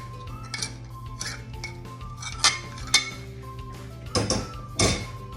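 Cold butter is worked into flour in a bowl for buttermilk biscuits, scattered clinks and scrapes of a utensil against the bowl, a few louder knocks near the end over a low hum.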